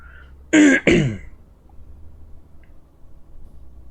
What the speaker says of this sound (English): That's why I do cough occasionally in the videos.